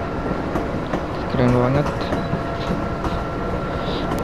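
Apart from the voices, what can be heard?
Argo passenger train passing at Jakarta Kota station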